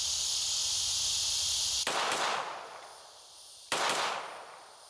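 Two sharp pistol shots from a handgun fitted with a Radian Afterburner compensator, fired outdoors a couple of seconds apart, each loud and close with a short ringing decay, over a steady high insect chirr.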